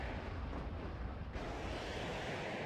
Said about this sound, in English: The Mi-24P going to get its rockets off here a little bit.